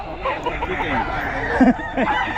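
A pumpkin sweater gamefowl rooster at a busy open-air market, giving brief clucking calls, with one louder squawk near the middle, amid crowd chatter and background noise.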